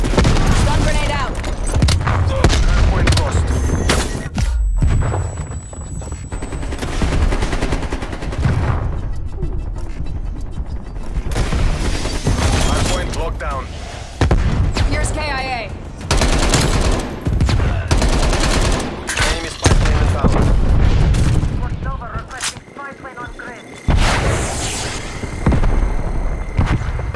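Gunfire and a stun grenade in Call of Duty: Black Ops Cold War, dense loud bursts of shots and bangs in a hardpoint match, with frequent short cracks, brief lulls and voices talking throughout.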